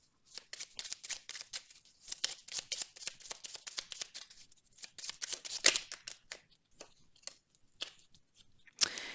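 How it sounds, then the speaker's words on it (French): Tarot cards being handled and drawn from a deck, a close run of quick papery flicks and shuffling snaps in irregular bursts, ending with a sharper slap. "J'ai encore tiré une carte."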